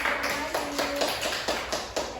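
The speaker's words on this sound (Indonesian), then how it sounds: "Tepuk tangan dulu buat Nasi." A classroom gives a short round of clapping for a student during a microteaching lesson, with distinct rhythmic bursts of hands striking together at regular intervals.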